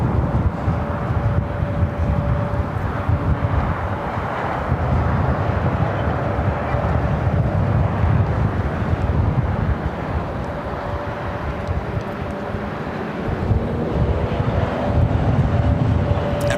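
Airliners, including an Airbus A350-900, taking off at LAX in extreme winds, heard as a continuous heavy roar of jet engines mixed with strong wind buffeting the microphone, loud and sustained throughout.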